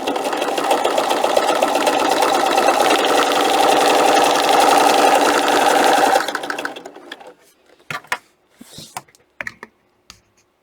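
A sewing machine stitches a handmade book protector in one loud, continuous run lasting about six seconds, then stops, leaving scattered light clicks and handling sounds.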